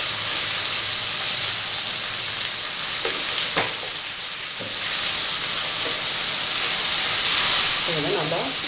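Spicy red chutney ingredients sautéing in a pan make a steady sizzling hiss throughout, with a few faint clinks of stirring and a voice speaking now and then.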